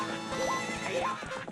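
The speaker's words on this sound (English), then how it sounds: "Epona might make that noise when she's neighing" Epona, the horse in a Zelda game, gives two quick rising neighs over a busy game background with faint hoof clip-clop, all within a second and a half.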